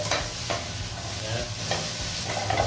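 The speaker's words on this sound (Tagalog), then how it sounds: "Then saute na natin mga guys." Sliced chicken breast and asparagus sizzle in a hot pan, with a steady fry hiss broken by occasional stirring scrapes, close and continuous.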